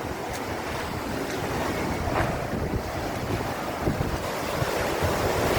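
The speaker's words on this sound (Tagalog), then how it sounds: "Ang lalakas ng alon." Strong sea waves surge and crash without pause at Boulevard Molo in Iloilo City, a loud, dense roar of surf mixed with heavy wind buffeting the microphone, with no voices.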